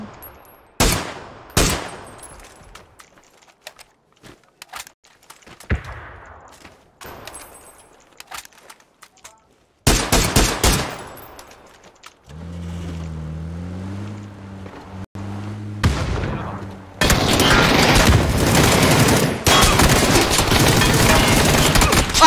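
Gunfire from an MK47 rifle in the battle royale game PUBG rings out in sharp, scattered bursts of single shots, followed by a vehicle engine droning and a harsh loud stretch, with brief voices.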